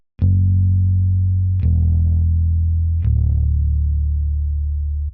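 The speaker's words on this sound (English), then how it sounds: "we have the bass here, Scarpy Rickenbacker bass, not just some preset as always" Rickenbacker-style bass holds long, sustained root notes, three changes across the passage, each attack sharp and loud, with a saturated, slightly distorted tone and no voices.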